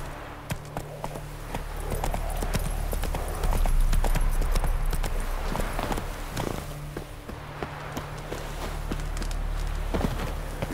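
Roach, the horse in The Witcher 3, trots along in a steady clip-clop of hooves, loud and close, with a low rumble of game ambience beneath.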